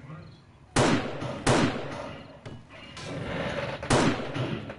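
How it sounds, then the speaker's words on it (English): Several sharp gunshots ring out in GTA, four loud separate blasts spaced unevenly over a steady background rumble, with voices talking faintly underneath. "Who's firing?"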